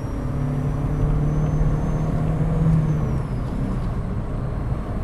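A Volkswagen Golf MK4 with a 1.4 16V engine of 75 horsepower runs with a steady, low droning rumble that stays constant and fairly loud throughout, with no talk.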